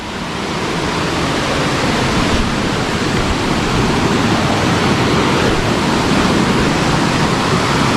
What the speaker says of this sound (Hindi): आप मन पूरा देख सकते हो, पूरा साफ पानी कल कल कल कल कर गिरा थे पूरा होती खाई में